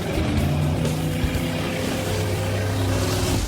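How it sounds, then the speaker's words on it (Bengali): Three cars drift in circles through water, giving a continuous droning engine roar with a splashing wash, steady and fairly close, with no talking. "3টে গাড়ি গোল করে ঘুরছে। ও ওরা তো জলের মধ্যে ড্রিফট করছে"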